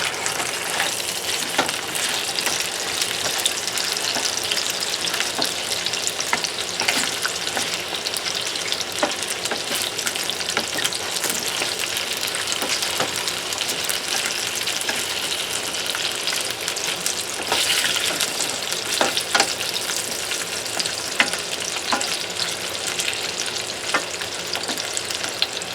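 Potato pieces frying in hot oil in a pan for beef caldereta, a steady loud sizzle with occasional crackles and stirring scrapes throughout, no talking.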